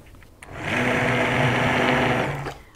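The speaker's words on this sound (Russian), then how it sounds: "Теперь беру погружной блендер" An immersion blender purees zucchini and eggplant caviar with a steady, close, high-pitched whir. It runs for about two seconds between short quiet moments at the start and end.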